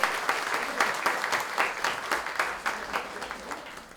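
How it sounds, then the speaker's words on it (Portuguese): An audience claps in welcome for a guest, Dr. Alejandro Vera, before a talk: a lively, moderately close round of hand claps with uneven individual peaks that gradually thins toward the end. "Palmas para ele, gente."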